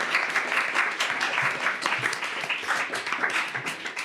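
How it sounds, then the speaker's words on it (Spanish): An audience at a book fair event applauds in a sustained, dense burst of clapping that holds steady throughout, fairly loud and close. "para el que también voy a pedir un fuerte aplauso"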